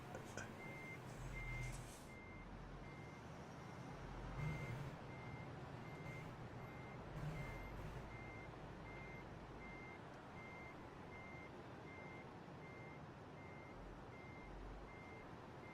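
Regular reversing beeps from a truck in American Truck Simulator ring out evenly over a low engine rumble, with occasional hissing air bursts, and no one speaks.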